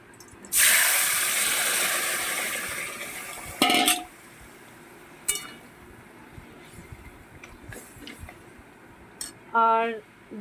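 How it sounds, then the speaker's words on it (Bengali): Vegetable curry is poured into a hot pan with a loud, hissing splash, followed by clinks of metal utensils and pan against pan, scraping, and a brief rattling stir near the end, all close. "আমি এইটা এবার তরকারিটা ঢেলে দেবো"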